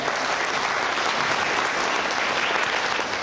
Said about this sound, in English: Now, of course, our artists, the Orang Asal from Jahai, a big round of applause for them.